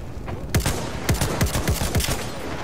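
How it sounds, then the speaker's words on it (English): A video game anti-aircraft gun fires on the player in a rapid series of five or six heavy, evenly spaced booming shots, loud and close. "the fucking AA gun's hitting me again"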